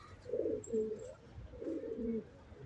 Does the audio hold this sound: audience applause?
no